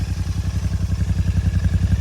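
A 2026 Royal Enfield Continental GT650 twin-cylinder motorcycle idles close by, with a steady, even, rapid thumping pulse and no revving.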